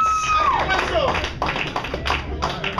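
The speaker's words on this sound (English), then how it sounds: "Clap again for Joe Timmons." Clapping from an audience for a live performer, a run of sharp hand claps that becomes more scattered, mixed with talk and a brief whistle at the start.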